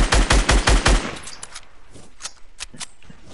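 Automatic gunfire in the Fortnite video game: a loud close burst of rapid shots, then scattered fainter single shots and distant fire.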